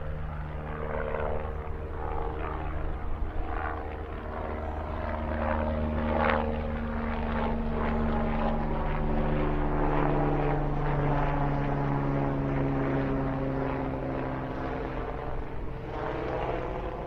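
A helicopter taking off near a Sports Direct store: a steady aircraft engine drone with rotor thrum holds throughout, continuous and fairly loud, with no speech over it.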